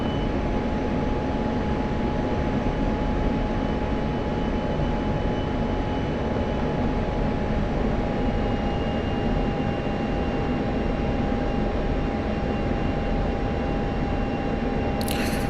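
An F-16 jet engine in the DCS flight simulator gives a steady loud roar with a constant tonal whine, unchanging and continuous with no voices.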